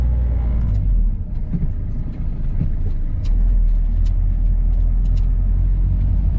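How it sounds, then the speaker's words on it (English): A car drives along a seafront road, its engine and tyres giving a steady, loud rumble throughout with faint traffic noise and no talking. "We're just still driving adjacent to the front"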